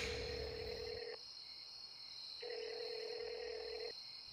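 A phone line emits a steady ringback tone in two long pulses separated by a pause, with a faint constant high whine underneath, as a call is placed in a dramatized Bengali horror audio story.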